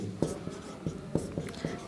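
Chalk or pen writes out a Class 10 trigonometry solution involving tan 60 degrees, in a series of short, evenly spaced scratching strokes, quiet and close.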